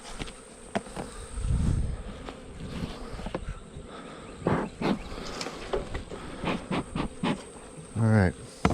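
Honeybees buzz around hives and honey supers during a spring swarm install and inspection, a close, continuous drone with brief louder passes as single bees fly near, mixed with light handling noise.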